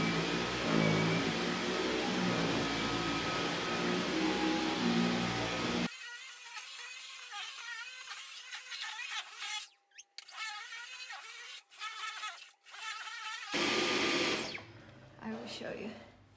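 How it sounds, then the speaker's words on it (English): A Dyson V11 Absolute Extra cordless vacuum cleaner cleaning an apartment carpet, a loud steady whine that abruptly drops in level and changes tone, with brief cut-outs, then surges again near the end. "now we will vacuum all my apartment floor"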